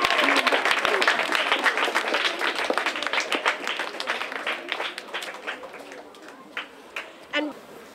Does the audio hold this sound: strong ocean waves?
no